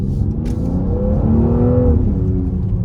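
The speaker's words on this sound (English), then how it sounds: "It is an aggressive engine, but there's not too much road noise." A 2020 Mercedes-AMG GLC43 accelerating hard, its engine note climbing in a smooth rising rev heard from the cabin, steady and fairly loud with little road noise and no voices.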